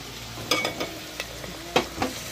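Chicken pieces with turmeric and two tomatoes are stirred in a pan, producing a few scattered scraping strokes and soft clanks over a quiet, steady sizzle.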